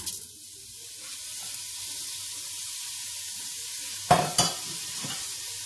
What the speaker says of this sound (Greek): Σηκώνουμε το καπάκι και βάζουμε μέσα τα κρεμμύδια.